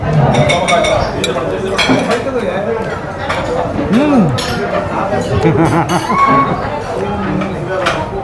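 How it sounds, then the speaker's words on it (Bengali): A spoon clinks against a plate while kima biryani is eaten in a busy hotel dining room, small metallic taps and scrapes beneath steady nearby talk and background chatter. "আমি একটু চামচ দিয়েই খাই"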